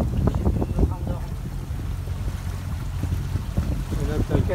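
A sailboat's engine drones steadily while motoring on a sea crossing from Ibiza to Burriana, a continuous low rumble mixed with wind noise and faint voices.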